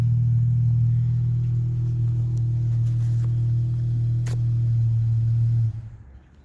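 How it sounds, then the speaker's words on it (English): Steady low rumble of a 2017 Dodge Challenger V6 with aftermarket mufflers idling or cruising, deep and continuous, fading out near the end with no talk. "So at any rate, we're very happy with the exhaust on it."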